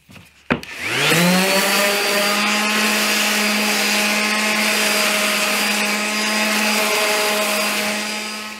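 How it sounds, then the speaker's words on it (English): Power sander running on wood pieces in a woodworking shop, a loud steady motor whine with strong harmonics that starts abruptly after a brief knock and holds evenly for several seconds before tapering at the end. "Now we'll sand these down a little bit."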